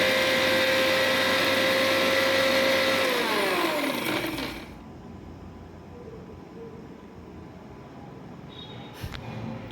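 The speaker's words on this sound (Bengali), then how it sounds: "তো এই যে ব্লেন্ড করে নিচ্ছি।" An electric blender whirs loudly and steadily as it purées mango for a pickle, its pitch dropping before the motor cuts out after about four seconds, leaving a quiet room and a faint clink.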